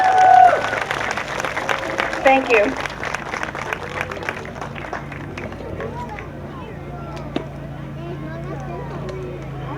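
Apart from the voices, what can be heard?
audience applause for honoree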